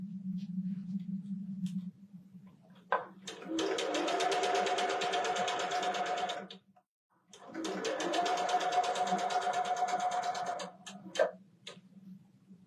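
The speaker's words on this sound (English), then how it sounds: "We're going to sew this top piece on." A sewing machine stitches quilt block pieces together in two bursts of rapid, close mechanical ticking with a brief pause between them, and a low hum runs before and between the runs.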